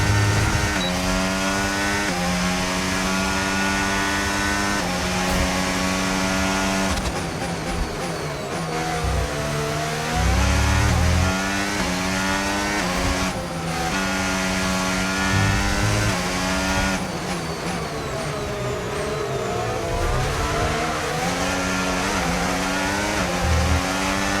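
A Formula 1 race car engine screams through gear changes in F1 25, loud and continuous with rising and falling revs across repeated upshifts and downshifts, close and alone.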